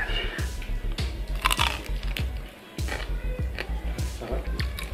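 Crunchy pork leg being eaten with bare hands, Filipino style, a steady run of close, crisp chewing crunches with brief crackles, pausing once midway before the rhythmic crunching resumes.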